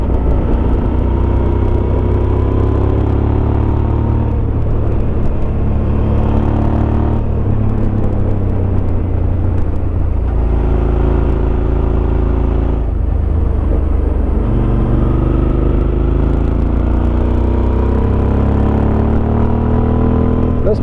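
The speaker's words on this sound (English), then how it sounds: "This bike handles great in the Twisties." A 2005 Suzuki V-Strom 650 adventure motorcycle on Shinko 705 tyres riding through twisty roads, its engine droning loud and continuous with repeated rising pitch sweeps as it accelerates through gears, under heavy wind rumble.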